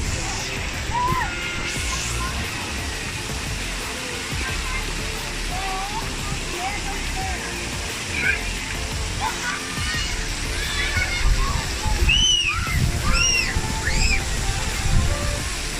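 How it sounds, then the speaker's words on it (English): Water sloshes and pours steadily at an outdoor splash pad water park as a large bucket tips, with children shouting and squealing throughout. "The bucket's gonna tip over."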